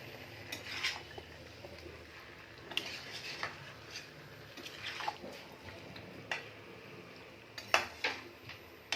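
Potato dum with peas being stirred in a pot: a spoon scrapes and clinks against the metal in irregular, fairly quiet strokes over several seconds, with no talking.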